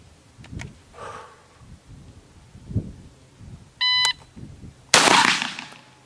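A shot-timer beep is followed by a single loud, close shotgun blast fired at a target from the high ready position during a drill, with a long ringing tail.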